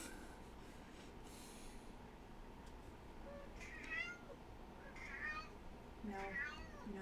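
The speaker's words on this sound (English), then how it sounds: "Vegeta, shut up. You're being bad. Be nice to the other kitties" A house cat named Vegeta meows in short, repeated calls near the microphone, a couple of rising cries standing out over steady background hum.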